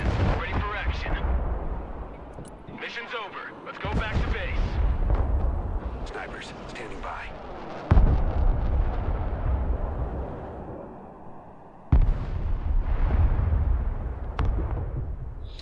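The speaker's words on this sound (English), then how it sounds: "Mobile artillery ready." Mobile artillery firing in the Broken Arrow war video game: repeated heavy booms and explosive bursts roll over continuous battle noise, with someone talking over much of it.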